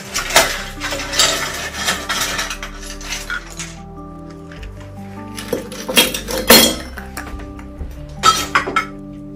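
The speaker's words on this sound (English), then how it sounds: "First, in my cocktail shaker, I'm going to go in with some ice." Ice cubes clatter and rattle into a metal cocktail shaker for a mocktail in loud, sharp bursts, first a long tumbling pour and then several separate clinks and knocks, with no talking.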